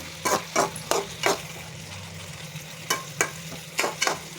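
Raw prawn curry with turmeric is stirred in a pan over a soft sizzle, with about eight sharp scraping strokes in two clusters, close and clear, and no talking.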